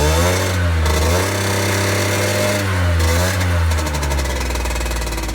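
A Gilera Stalker 50 scooter engine, just back from a carburetor fix, idles steadily with a buzzing two-stroke drone and dips and rises slightly in pitch, rising near the end as the revs come up.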